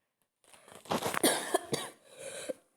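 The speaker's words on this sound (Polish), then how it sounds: "Przepraszam Was najmocniej za to kaszle" A short burst of several harsh coughs in quick succession, close and fairly loud, then a final rough cough after a brief pause.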